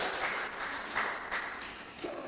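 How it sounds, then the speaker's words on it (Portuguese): Applause from a church congregation at a Sunday Bible school class, a steady wash of clapping that fills the short clip at moderate volume with no talking over it. "Palmas para nós, irmãos."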